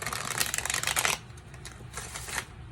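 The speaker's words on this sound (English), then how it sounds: "I haven't tried riffle shuffling with it like that one" Tarot cards are riffle shuffled in a loud, rapid ripple of fluttering clicks, then a few softer shuffling rustles follow, close by.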